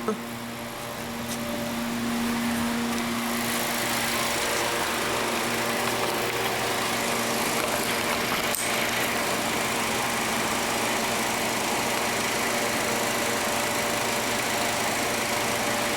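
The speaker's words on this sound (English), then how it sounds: "And now we're looking at compressors active, no shut-off condition is present." A running air conditioning compressor drones steadily and loudly, with a constant mechanical whir and fan-like hum that stays even for the whole stretch, with no talking.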